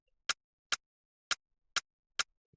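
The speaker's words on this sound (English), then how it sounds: "you want to get this bounce, this rim shot snare bounce." Five crisp, sharp rim shot snare hits in FL Studio, spaced in a bouncy, uneven Afrobeats rhythm, each dry and percussive with silence between.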